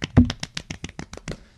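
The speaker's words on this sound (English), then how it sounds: "clap for anonymous guys" A small group claps in a quick, uneven burst of about a dozen sharp hand claps over less than two seconds, close by and fairly loud before trailing off.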